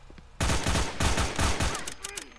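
AK rifle gunfire in the horror video game Mimicry: bursts of rapid automatic shots, loud and close, in a few clustered volleys over a couple of seconds.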